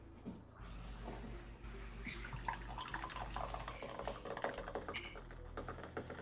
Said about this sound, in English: That is the immersive sound of Danica pouring a drink to one of the patrons.